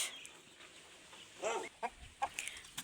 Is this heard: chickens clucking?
yes